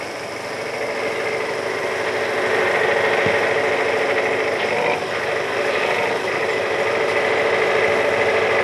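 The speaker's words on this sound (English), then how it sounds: "Here is a small mechanical shovel made by Coventry Climax." A Coventry Climax small mechanical shovel at a colliery, its engine running with a steady loud drone and vibration, the pitch rising slightly midway, with a broad constant noise and no voices.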